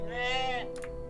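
A short sheep bleat from the video game OneShot, a wavering cry just over half a second long, followed by a couple of faint clicks.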